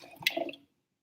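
Estate Pinot Noir red wine is poured as a small taste into a glass, a brief close liquid splash and trickle lasting under a second before silence.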